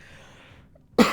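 One sharp, loud cough bursts out at the very end after near silence, close to the microphone during a Diablo 2 gaming session.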